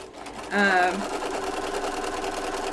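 A sewing machine runs steadily as it stitches a 6 1/8 inch quilt block, its close mechanical whir holding even throughout while a person talks over it.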